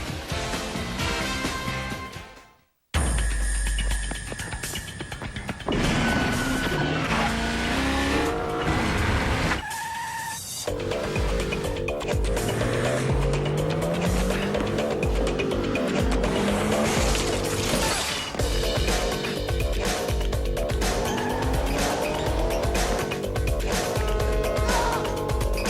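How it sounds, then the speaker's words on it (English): A Nissan Maxima with 265 horsepower roars loudly through a TV advert, its engine revving and changing pitch over driving music, with sharp tire squeals and skids cutting in. "The new 265 horsepower Nissan Maxima"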